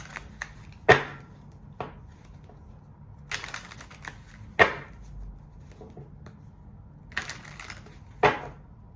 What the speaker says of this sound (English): Let me just give it a good shuffle